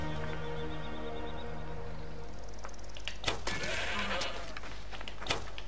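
Goats bleat in Assassin's Creed, a few repeated wavering calls early on over steady ambient game sound, followed by scattered clanks and rustles.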